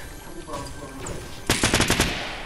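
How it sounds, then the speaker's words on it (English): A burst of rapid gunfire in the video game Fortnite, loud and close, firing several shots in quick succession after a quieter stretch of game sounds. "I didn't mean to shoot."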